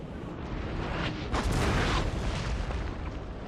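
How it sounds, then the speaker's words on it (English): Cannon and artillery fire in the PC strategy game Napoleon: Total War, heard as a continuous rumble of overlapping booms that swells into a louder, dense burst of volleys midway, with no talking. "it's probably a good idea to just keep firing at their guns."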